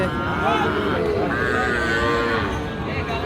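Sahiwal bull calves at a rural weekly cattle market in Nawabganj, Dinajpur, low repeatedly with several drawn-out moos close by over a busy market murmur with voices in the background.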